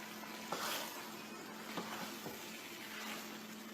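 Powdered spices, including white cumin, dried coriander and black pepper, being mixed into sizzling okra in a cooking pan, a faint steady fry with a few soft scraping stirs and no voices.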